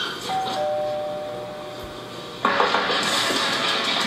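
A doorbell at a large house door gives a clear electronic chime that rings out and lingers over outdoor background noise. A louder rustling burst of noise follows a couple of seconds later.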